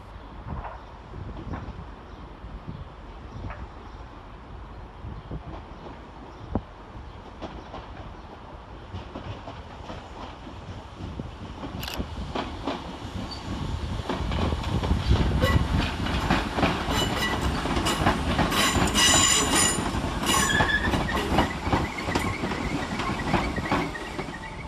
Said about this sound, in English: arriving to terminate with a Merseyrail electric service from Liverpool Central is